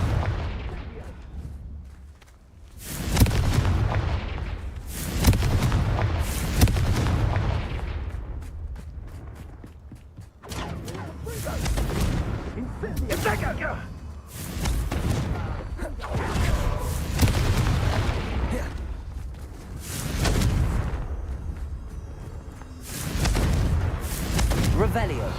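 Fire-spell explosions in Hogwarts Legacy, a run of loud booming blasts over about 25 seconds, mixed with voices and game sound and coming in bursts with short lulls between.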